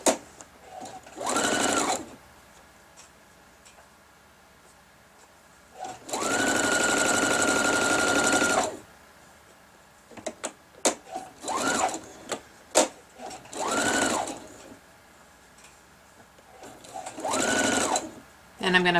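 Short bursts of a sewing machine stitching quilt fabric units alternate with pauses, several runs of rapid whirring close by, with someone talking in the gaps.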